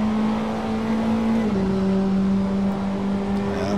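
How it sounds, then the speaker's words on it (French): A race car in Assetto Corsa fitted with a motorcycle engine drones at high revs, its pitch stepping down once as it shifts gear, then holding steady; loud, close and continuous. "je suis sûr que c'est un moteur de moto qui est plus sur le truc"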